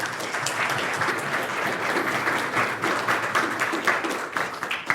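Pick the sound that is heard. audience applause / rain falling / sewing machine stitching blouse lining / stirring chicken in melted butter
audience applause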